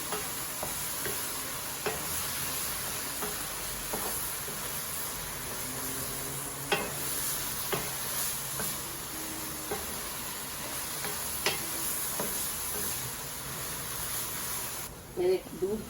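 Grated carrot halwa with chopped almonds and walnuts is stirred and roasted in a pan, a steady low sizzle broken by frequent sharp scrapes and taps of the spoon, close and moderately quiet.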